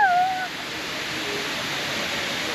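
A waterfall in Fiji roars as a steady, loud broadband rush that fills the whole clip, close by and unbroken, with a brief high whistle-like tone at the very start.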